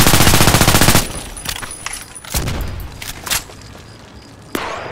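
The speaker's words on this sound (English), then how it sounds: "shooting against the wall, you see how much" Automatic gunfire in the video game Contract Wars, fired against a wall: a loud sustained burst for about a second, then scattered single shots and impacts trailing off.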